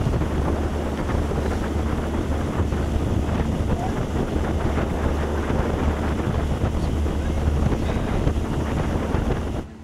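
A headwind sweeps over a collegiate heavyweight rowing race between Princeton, Syracuse and Georgetown, producing constant loud buffeting wind noise on the microphone, with a faint watery wash underneath, lasting nearly the whole stretch without a break.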